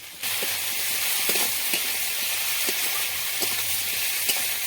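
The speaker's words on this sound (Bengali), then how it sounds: "মশলাগুলো ভাজা হয়ে যাচ্ছে" Spices with turmeric and chilli powder frying in oil for spinach with prawns, a steady close sizzle with soft stirring scrapes and light clinks scattered through it and no talking.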